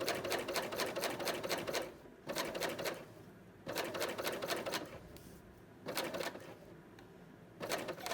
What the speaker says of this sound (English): So I am just going to continue stitching, and then I'll show you what I do for an adjustment. I'm going to let the knife trim that off.